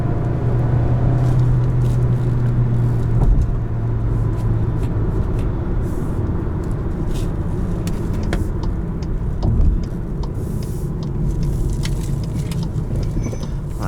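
A 2020 Volkswagen Jetta SEL cruises from inside the cabin with a steady road rumble and engine hum, the pitch dropping briefly as the automatic transmission upshifts early on.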